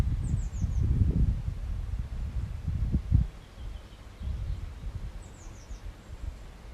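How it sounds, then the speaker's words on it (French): Steady outdoor wind rumble with a few low gusts, while faint high bird chirps appear briefly near the start and again later in the distance. "le souffle du vent,"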